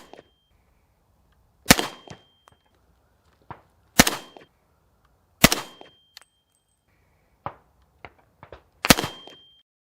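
Rifle shots fired unsuppressed, with the Saker 762 suppressor's AAC-51T mount on the gun: four loud, sharp cracks spaced a couple of seconds apart, each ringing briefly, with fainter distant reports between them.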